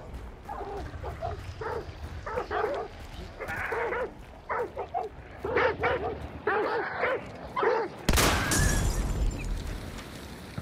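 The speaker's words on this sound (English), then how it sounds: "I need to blow up those indoor dogs as well." Dogs barking indoors in the video game Hunt, a series of bursts of repeated barks and yips at moderate distance, followed by a sudden loud explosion near the end.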